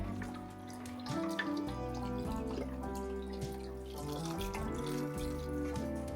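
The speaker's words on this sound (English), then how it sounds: "You're gonna fill your chicken stock box up about halfway with water." Tap water running into a chicken stock carton, a steady pouring and trickling sound with a resonant, rising pitch as the box fills, quiet and close with no talking.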